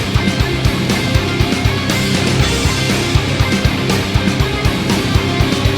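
Multiband-compressed guitars in a full band mix, darkened and pushed back after the crossover is lowered from about 4.2 kHz to 1 kHz, playing steadily with drum hits throughout.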